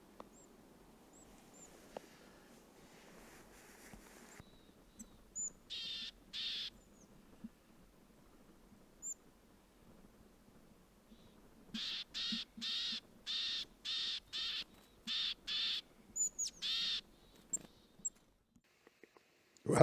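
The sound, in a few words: birds calling in snowy Abisko National Park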